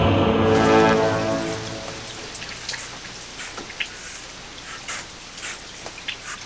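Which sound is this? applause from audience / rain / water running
rain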